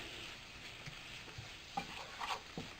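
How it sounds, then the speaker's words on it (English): Cabbage pad thai being stirred in a pan, a soft steady sizzle with a few scraping strokes of the utensil near the end, fairly quiet and close. "So we're going to stir that around. Mix it in real good"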